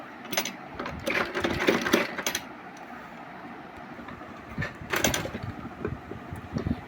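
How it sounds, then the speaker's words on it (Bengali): Sewing machine top-stitching a hijab, a mechanical whirring run in bursts of a second or two with short pauses between, close and fairly loud, with no talk. "উপর দিয়ে চাপ সেলাই দেওয়া লাগবে"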